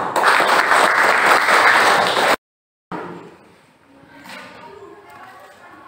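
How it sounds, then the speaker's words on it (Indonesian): Students in a classroom give a loud burst of clapping for the first group about to present in a jigsaw-style lesson. The applause cuts off abruptly after about two seconds, leaving a quiet room with faint background murmur. "Beri tepuk tangan untuk kelompok 1."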